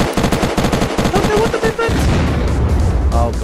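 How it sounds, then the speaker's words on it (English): Rapid bursts of rocket and gunfire from the survival game Unturned, dense and loud, crackling in quick succession and then giving way to a rumbling blast-like wash. "Who's shooting bloody rockets?"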